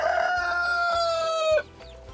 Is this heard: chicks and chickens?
yes